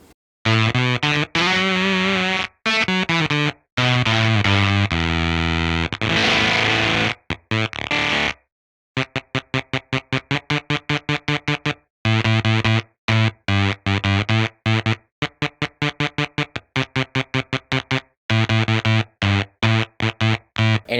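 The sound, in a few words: Axe Fx III Bit Crusher drive pedal on electric guitar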